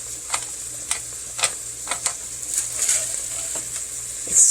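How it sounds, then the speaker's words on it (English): Spices are stirred into a pot of Cincinnati-style chili, giving a low, steady simmering hiss with a series of light scraping taps from the spoon against the pot. "Stir that all in."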